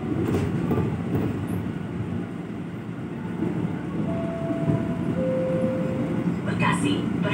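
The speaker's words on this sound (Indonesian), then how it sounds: "masuk jalur 7 stasiun Bekasi" A KRL Commuter Line train pulls into track 7 at Bekasi station with a continuous low rumble and rattle, a brief high wheel squeal, and a person talking over it.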